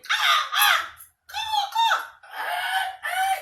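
A person imitates bird calls, producing a series of harsh cawing and squawking sounds in short bursts separated by brief pauses.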